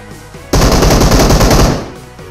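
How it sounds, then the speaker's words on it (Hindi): Rapid automatic gunfire from a warehouse in the PUBG video game rattles in a loud, dense burst lasting over a second, closely spaced shots with a fading tail. "आगे वेयर हाउस की तरफ से फायरिंग आता है"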